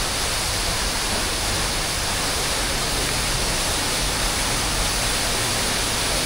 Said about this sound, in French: On va aller voir la cascade de plus près avant d'aller se mettre dans l'eau.